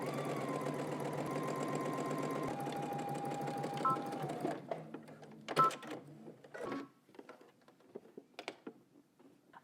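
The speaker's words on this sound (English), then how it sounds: "now we're going to go ahead and stitch our facing down to our pocket using 5/8 of an inch seam allowance" A sewing machine stitches a pocket facing with a steady whirring hum that changes pitch partway, then stops, followed by quieter clicks and fabric handling.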